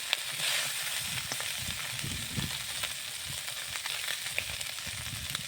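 Fish fries in oil in a kadai with a continuous close crackling sizzle, a broad hiss under scattered small pops and faint stirring thuds.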